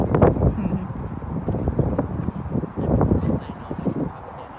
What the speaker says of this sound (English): really a loud bird